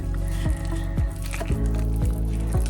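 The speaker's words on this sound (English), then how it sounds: "And then we need to stir it" Thick melted cheese sauce for mac and cheese is stirred in a Thermomix, making wet, squishy, sticky pulls in a steady rhythm about every half second. The sound is close and moderately loud.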